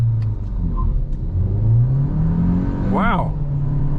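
A 2024 Geely Coolray with a 1.5-litre engine and seven-speed dual-clutch gearbox launches hard at night, its engine droning steadily as it pulls, with a quick rising rev sweep near the end as a voice speaks over it.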